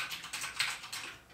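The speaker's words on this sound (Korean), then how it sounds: "이 키보드는 카일 스위치 청축으로 인하여 이렇게" Rapid clicky typing on an i-rocks K60M aluminum mechanical gaming keyboard with Kailh blue switches, a steady close-up patter of crisp keystrokes with no voices.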